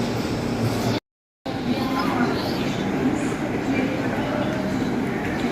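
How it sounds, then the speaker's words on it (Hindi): A passenger train, the Rajdhani Express 12394, pulls out of Kanpur Central station after a halt, giving a steady, loud rumble of wheels and carriages that runs through the clip apart from one brief gap, with faint voices in the background. "हमारी ट्रेन खुल चुकी है कानपुर सेंट्रल से"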